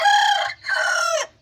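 An Aseel rooster crows nearby in two long, strained bursts separated by a brief pause, loud and clear with no talking.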